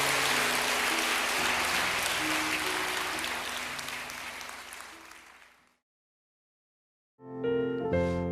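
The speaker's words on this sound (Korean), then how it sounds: "우리 하나님께 감사의 박수 올려드립니다" A church congregation at a Thursday midweek service claps in thanks to God, a broad wash of applause over sustained organ or keyboard chords that fades out. After a short silence the music comes back in alone.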